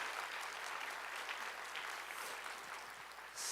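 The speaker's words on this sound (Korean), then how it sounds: "큰 박수 보내주세요." Big, continuous applause from a church congregation at a Wednesday worship service, even and sustained throughout at moderate distance.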